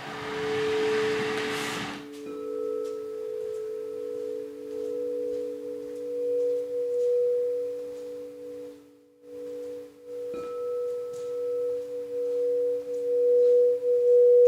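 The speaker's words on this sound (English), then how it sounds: "these pure tones are going to be so easy to just like trance into" Meditative pure tones: steady sustained sine-like hums layered in a few pitches, holding almost unbroken for the full stretch with one brief dip, smooth and fairly loud after a short noisy start.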